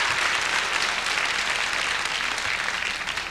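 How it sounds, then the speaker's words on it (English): A stand-up comedy crowd claps steadily and fairly loudly for a few seconds, a dense even wash of applause with no talking over it. "I want some applause for that"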